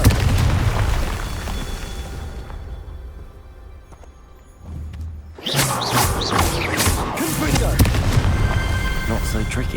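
A Confringo fire spell exploding in the video game Hogwarts Legacy: a fairly quiet stretch, then a sudden loud burst just past the midpoint that rolls on as a dense, crackling roar to the end.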